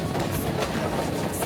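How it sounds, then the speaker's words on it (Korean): A train runs on rails in Sri Lanka. A steady, close rumble carries a faint rhythmic clatter of wheels over the track, with no voices, across a short continuous stretch. "기차는 느리지만 꾸준히 달려간다."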